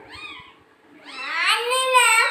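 A cat meows in a rising, drawn-out cry that swells louder toward the end, preceded by a fainter call, close by with no talk over it.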